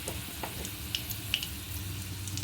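Gathi kochu (taro) cooking in hot spiced tempering oil, a close continuous sizzle with a few light clinks and stirring scrapes, no talk.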